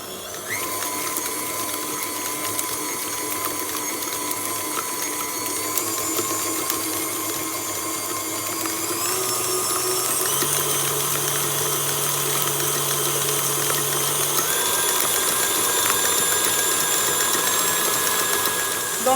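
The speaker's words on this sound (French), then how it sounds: "je viens placer dans mon robot. Et je viens mettre la vitesse et je l'augmente progressivement" A kitchen stand mixer whips cream for a coconut and tonka bean dessert, motor whining steadily with pitch rising in steps as the speed is gradually turned up, loud and close throughout.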